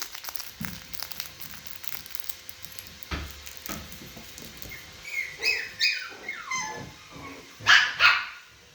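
Several high-pitched Chihuahua puppy yips and barks, growing louder toward the end, with short bursts scattered over light background noise.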